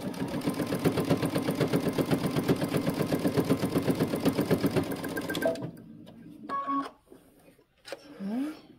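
A home sewing machine stitches a backstitch in a dressmaking session, with a steady rapid mechanical whirr and clatter for about five seconds before it stops, followed by a few faint handling noises and a brief voice.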